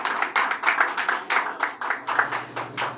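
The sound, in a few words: audience clapping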